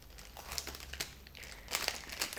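Plastic crinkles and rustles in bursts close to the listener, louder toward the end, with no voices.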